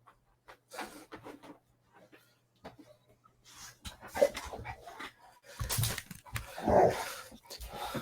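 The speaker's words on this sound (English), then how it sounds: "Stop your barking, you big baby." A dog indoors gives short, intermittent barks mixed with whimpers and panting. The bursts are close by and grow louder toward the end, with quiet gaps in between.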